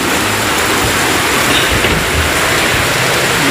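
Heavy tropical downpour during a stormy lunchtime, a dense, steady roar of rain that stays loud and even from start to finish, with no voices over it.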